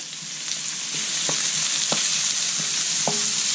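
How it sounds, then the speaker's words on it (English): Onions sautéing over medium-high heat in a pan that was just used to brown beef for picadillo. A steady close sizzle runs throughout, broken by a few light stirring scrapes and clacks against the pan, with no talking. "we're going to add the onions. And you want to saute that a little bit"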